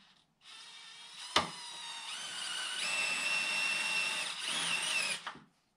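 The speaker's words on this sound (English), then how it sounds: "Big ol' angle attachment on your drill." A power drill fitted with an angle attachment whirs steadily for about five seconds during a snow plow mount install on a Can-Am Outlander 570 MAX XT ATV, close and loud with a sharp click near the start and a slight pitch shift before stopping.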